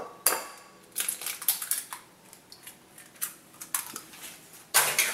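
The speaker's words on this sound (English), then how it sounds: "So let's break 2 eggs into this bowl here." Two eggs cracked into a bowl in a kitchen, giving a handful of sharp taps and shell clicks against the bowl, spaced irregularly over a few seconds, close and clear with no talking.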